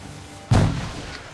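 A grenade goes off in Assassin's Creed IV: Black Flag as a single sudden low thump with a short rumbling tail over quiet game ambience.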